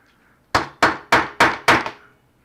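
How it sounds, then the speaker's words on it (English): A hammer strikes a metal punch set on a small piece of wood, five sharp, evenly spaced blows ringing out close and loud with nothing else heard. "I just got a little piece of wood. And I grabbed my hammer."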